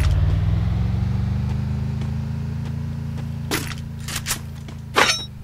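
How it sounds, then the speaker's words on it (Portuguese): A car in the Free Fire battle royale video game drives steadily with a low, constant engine drone, while a few sharp cracks and impacts break in near the end; no one talks. "O cara pegou o carro, ó."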